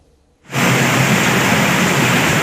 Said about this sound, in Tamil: இடி மின்னல் மற்றும் சூறைக்காற்றுடன் கனமழை பெய்தது